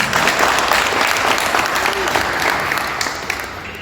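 Sustained audience clapping fills an annual meeting hall of a Punjabi organization, a dense even wash of applause that holds steady and slowly fades near the end, with faint crowd murmur beneath.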